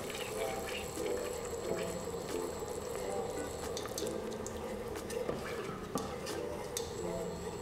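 Cream poured into a pan of creamy champagne sauce and stirred in, giving a steady wet pouring and mixing sound with light clinks of a utensil against the pan throughout.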